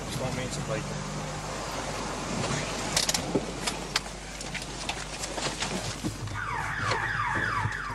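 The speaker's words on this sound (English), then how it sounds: "it hits an electric fence and triggers the house alarm" A house alarm in Johannesburg, set off when a police special task force team touches an electric fence, breaks into a loud electronic warble in the final seconds over a busy, noisy background.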